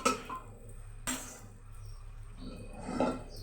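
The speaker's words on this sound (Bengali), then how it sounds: "এবার আমি ছোলার ডালটা এখানে ঢেলে দেবো" Chana dal is poured into a cooking pan with cumin and coriander powder, giving a soft rushing pour and a sizzle at the start and end, with clinks of a utensil against the metal pan in a quiet kitchen.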